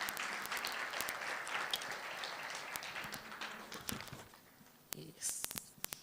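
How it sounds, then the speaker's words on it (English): An audience at a Youth Month programme applauds the chairperson, a faint crowd clapping with sharp individual claps standing out, thinning toward the end as a few voices come through. "Can we give her a round of applause, please?"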